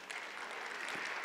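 Applause from a church congregation greets three performers coming on stage, a short, fairly soft patter of clapping.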